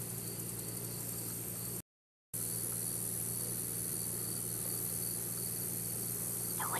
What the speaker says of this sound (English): Do you hear all those crickets and the frogs?